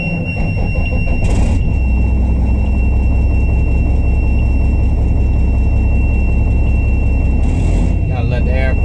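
A truck engine runs loudly up close with a deep steady rumble while air pressure builds, short hissing bursts of air cutting in twice, with some sharp squeals near the end.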